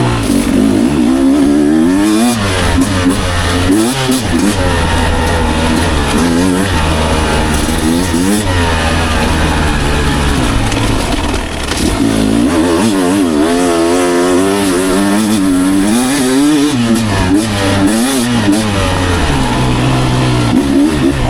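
Beta 250 Race Edition two-stroke dirt bike ridden on a tight, rough wooded trail, its engine revving loud and close, rising and falling constantly as the throttle is worked and the power band comes on.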